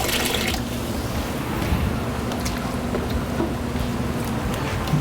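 Water pouring steadily while moving a renovated aquarium tank, a continuous close splashing and gurgling wash without pauses.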